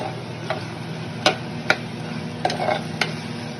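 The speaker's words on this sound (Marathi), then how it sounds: "आता त्याच्यामध्ये लसूण टाकायचं आणि लसूण पण थोडा वेळ भाजून घ्यायचा" Garlic added to onions already frying in a pan, giving a soft steady sizzle with a few sharp clicks and scrapes from stirring, close and fairly quiet, with no one speaking.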